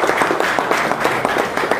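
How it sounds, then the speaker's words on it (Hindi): An audience at a BJP event for eminent persons joining the party applauds steadily and densely, with hand claps filling the space evenly throughout. "जोरदार तालियों के साथ"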